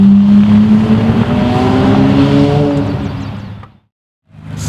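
Lamborghini engines, among them a Countach, an SVJ and an F8, rev loudly up close with a rising, sustained roar that cuts off into a brief silence before another engine roars back in.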